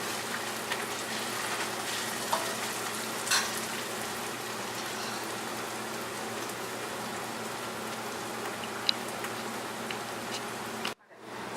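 Onions fry in a pan with a steady, soft sizzle that hisses evenly throughout, ending in a brief drop near the close.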